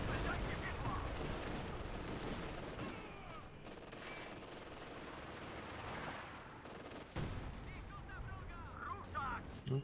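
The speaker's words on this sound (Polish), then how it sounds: "Rzucili na twój bunkier artylerię." Artillery shells pound a bunker in a video game, a dense, continuous barrage of booms and gunfire rumbling throughout, with a sharp crack near the end.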